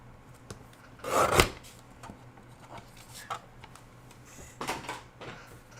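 A card is trimmed on a paper trimmer, with a few scraping, rasping cuts close by, one louder slide early and softer strokes later, no talking.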